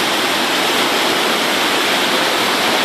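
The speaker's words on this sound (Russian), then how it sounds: "Вот, это горная река." Mountain river near Piha, New Zealand, rushing steadily into a gorge: a dense, continuous roar of water, loud and close, with no voices over it.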